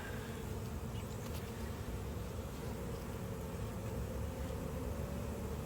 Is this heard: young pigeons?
no